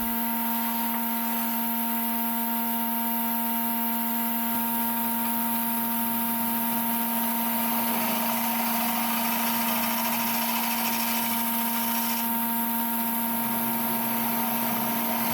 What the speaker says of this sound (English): What is this contraption? It's a vacuum chuck, Harry.